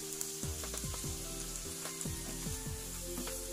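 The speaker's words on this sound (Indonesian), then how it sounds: "Aduk rata kembali." Sweet spicy chicken sizzles in a pan cooked without oil, glazed with sweet soy sauce and oyster sauce, while a utensil stirs and scrapes through it in repeated strokes, close and steady, with no talking.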